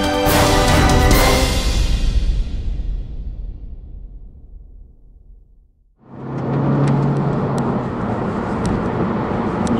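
A Honda Civic Type R hot hatch accelerates with a loud, close engine roar that fades to near silence, then returns strongly and holds steady.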